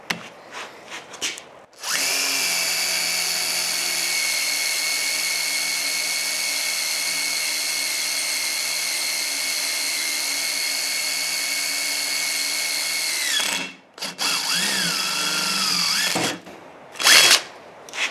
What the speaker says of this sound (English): That's a lot of metal to drill through